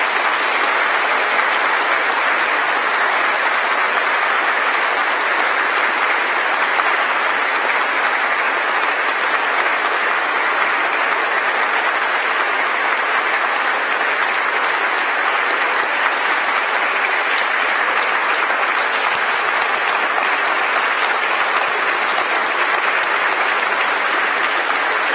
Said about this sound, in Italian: Vi prego proprio di fare un applauso a lui